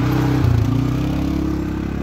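A motorbike on a hiking trail near Champadevi, its engine a steady, fairly close drone with a slight rev partway through and no voices over it.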